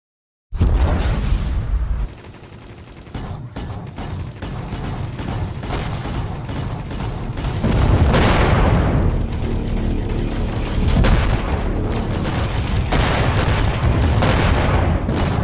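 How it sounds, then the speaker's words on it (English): Anti-fighter flak turrets in a space combat video game fire a dense, continuous barrage of loud booms and bursts, with heavier rumbling swells partway through. "I'm using anti-fighter turrets to kill ships"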